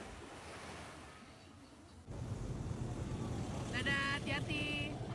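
Ocean surf rolling onto Joao Fernandes beach in Brazil, a steady broadband wash with wind noise on the microphone, swelling louder halfway through, with a brief tonal murmur near the end.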